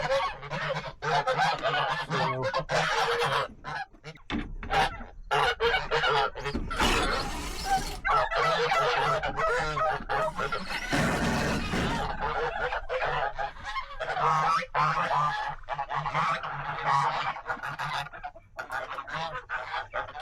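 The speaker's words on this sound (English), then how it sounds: "Geese sure are noisy." A flock of geese honking loudly and nonstop, harsh overlapping calls close by with constant clamor throughout.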